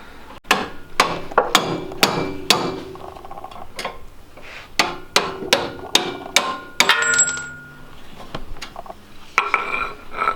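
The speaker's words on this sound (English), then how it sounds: "you put a screwdriver there or a punch, and then you hit the screwdriver and the bolt will fly on out" A hammer strikes a screwdriver or punch to drive the bottom main bolt out of a coilover during a Lexus IS300 suspension install, ringing metallic blows in quick bursts of two to four hits with short pauses, close and loud.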